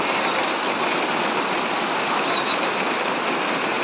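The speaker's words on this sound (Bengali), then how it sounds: "বৃষ্টি রোদ দুটো চলছে একসাথে" Steady rain falls in bright sunshine outside a restaurant, a dense, even patter of drops on surfaces that holds at the same loud level from start to finish, with no voices over it.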